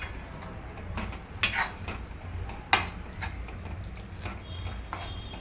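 Ratlami sev is stirred into a Gujarati sev dungri nu shaak of onion, with soft scraping strokes and a few louder clinks of a spoon against the pan, under a faint hiss, heard close.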